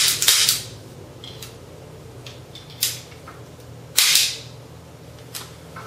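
Cybergun KJW Sig Sauer P226 airsoft pistol firing several sharp, snappy shots at uneven intervals, three loud and close with fainter clicks between, over a low background hum.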